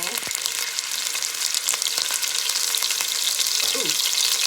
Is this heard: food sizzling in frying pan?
yes